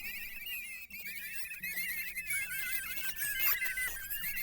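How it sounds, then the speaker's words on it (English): Cartoon-style mice squeaking and squealing in a busy, continuous chorus of high chirps, fairly faint and steady with no speech over it. "This news caused much squeaking, trembling, and gnashing of sharp little teeth."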